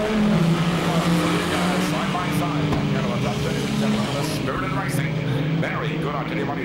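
Speedway race cars pull away at the start of a race, a dense roar of engines with rising revs at the line, under loud commentary.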